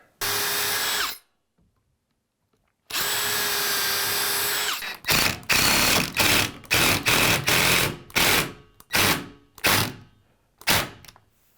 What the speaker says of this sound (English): I'm gonna put screws in because that is kind of cracking right there